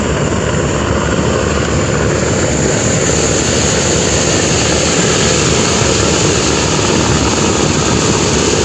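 Passenger launch engine running on a river at full speed, a loud, dense, continuous droning rumble with steady wind-like noise, unbroken throughout and with no voices.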